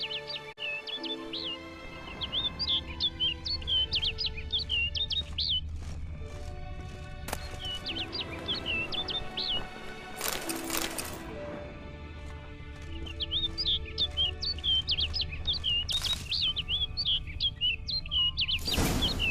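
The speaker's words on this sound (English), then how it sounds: "And that bird." Chirping birdsong from The Witcher 3: Wild Hunt video game, repeated bright tweeting phrases recurring over a steady ambient bed, with soft horse clip-clop sounds in the background.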